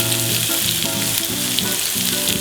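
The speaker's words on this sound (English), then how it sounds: "Listen to that sizzle." A steak sizzles loudly and steadily in a frying pan, hot grease hissing without pause, with a low bubbling underneath throughout. No one speaks.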